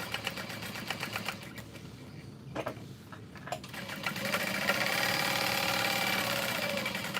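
Sewing machine basting near the edge of a messenger bag flap with a long stitch, a steady mechanical whir with brief pauses, then a louder continuous run.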